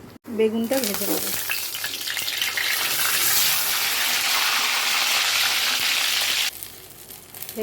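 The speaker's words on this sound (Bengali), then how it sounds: "বেগুনটা ভেজে নেব।" Eggplant slices fry in hot oil, a loud, dense sizzle bursting in after a brief clatter and holding steady for several seconds before dropping away abruptly near the end.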